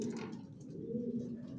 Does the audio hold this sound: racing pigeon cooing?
yes